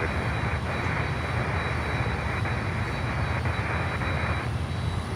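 DHL cargo plane inbound to Miami airport from Panama City, producing a steady, moderately distant jet engine roar that stays even throughout, with no talking.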